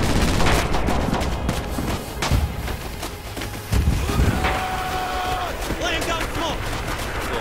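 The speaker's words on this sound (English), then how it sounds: "Should we wait for the artillery to go away?" Artillery and gunfire in Red Orchestra 2, a scatter of sharp cracks and dull booms at varying distances over a windy battlefield bed, with voices talking.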